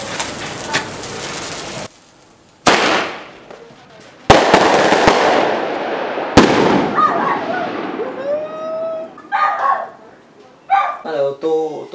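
Firecrackers set off in a celebration, several sharp loud bangs spaced a couple of seconds apart, each trailing off, followed by crackling, whistling and voices talking.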